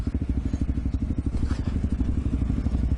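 Suzuki DR650 dual sport motorcycle riding single track, its big single-cylinder engine thumping in a rapid, loud, close pulse at low rpm, with faint clatter riding over the steady beat.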